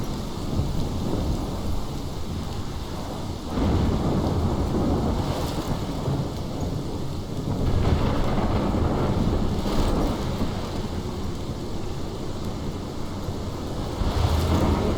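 A heavy thunderstorm in the video game Life is Strange, with steady loud rain and deep rolling thunder rumbles swelling several times over the downpour, no voices.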